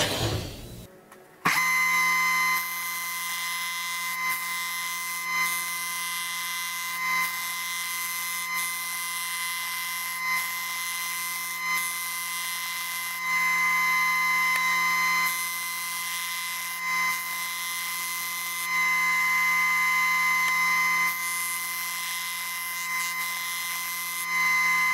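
A homemade drum sander works over an old wooden relic with a loud, steady mechanical whine and hum that starts abruptly and then holds for the rest of the stretch, swelling slightly as the wood is pressed against the drum.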